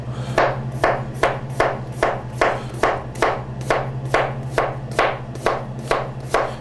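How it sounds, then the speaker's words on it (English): A knife slices through potatoes on a cutting board in a steady, even rhythm of about a dozen crisp chops, close and clear over a low background hum. "We're going to go ahead and slice some potatoes."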